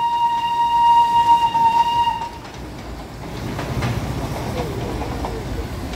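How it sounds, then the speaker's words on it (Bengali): Darjeeling toy train running at Batasia Loop, opening with a sustained whistle over a loud rumble, then steady clattering wheels and engine noise close by, with crowd voices in the background. "এই যে টয় ট্রেন যাচ্ছে"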